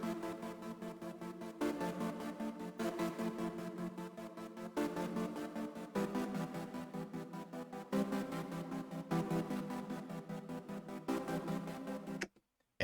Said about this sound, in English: And I started off by putting it in a gated synth just to fill up space.